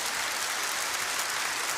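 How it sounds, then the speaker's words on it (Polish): A concert audience at a Silesian folk gala claps for a song, a steady wash of applause heard at moderate volume without voices. "brawa, tak, dla tej piosenki."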